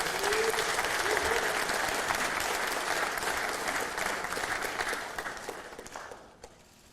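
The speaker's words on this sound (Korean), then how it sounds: "환영과 격려의 박수 부탁드립니다." A crowd at a People Power Party caucus meeting applauding steadily and loudly to welcome the party's presidential candidate, the clapping thinning out and fading away near the end.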